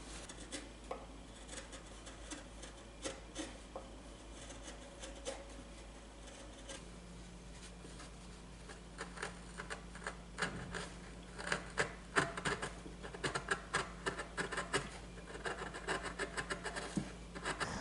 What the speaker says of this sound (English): I've been inside sanding this little guy and scraping it